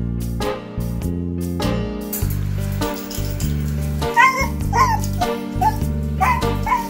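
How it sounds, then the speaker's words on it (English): A beagle barks and whimpers in short yips and whines over steady background music, the dog sounds coming in a cluster near the end, fairly close. "If you're looking for a happy, tail-wagging beagle who has a zest for life and absolutely loves being around people, then Soldier may be exactly the dog"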